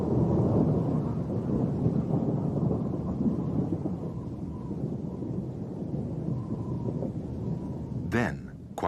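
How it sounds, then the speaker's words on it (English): A full-blown thunderstorm with strong wind roars steadily and loud for the whole stretch, a dense low rumble of wind and rain, with a brief sharp crackle near the end. "Until it escalates and turns into a full-blown storm."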